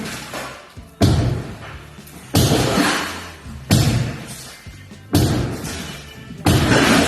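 A kitchen breakfast bar is being knocked out during home demolition: heavy blows land about every second and a half, each a loud crashing thud followed by rattling debris, close and alone without talk.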